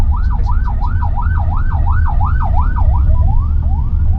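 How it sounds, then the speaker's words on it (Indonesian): An ambulance siren wails on an Indonesian road, a steady rising-and-falling sweep repeating about every half second over loud engine and road rumble, heard from inside a moving Toyota Veloz Hybrid. "Oh, ini kayak ambulans, gitu."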